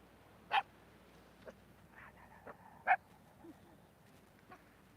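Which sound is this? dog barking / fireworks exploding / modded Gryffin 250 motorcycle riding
dog barking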